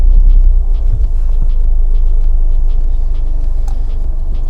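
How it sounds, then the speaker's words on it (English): A Toyota GR Yaris engine starts and settles into a steady, deep idle rumble, heard close and loud with a fairly constant level. "now I can turn the car on so you can see what happens if you start it"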